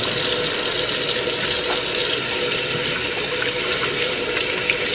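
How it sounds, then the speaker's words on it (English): Steady water from a running tap as hands are washed under it, a continuous close splashing flow with no talking. "wash your hands."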